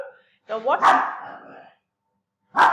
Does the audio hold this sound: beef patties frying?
no